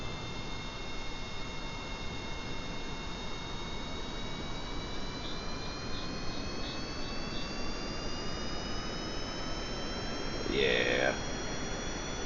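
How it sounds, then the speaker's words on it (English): Jet engines start up on a spaceplane in Kerbal Space Program, making a steady whine whose tones slowly climb in pitch over a constant rumbling roar, with a brief warbling burst near the end. "and we'll go ahead and start our engines"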